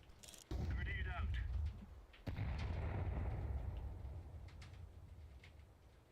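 Grenade blasts in Counter-Strike 2: two heavy, close booms, the second followed by a long rumbling decay that fades out, with voices talking over the game audio.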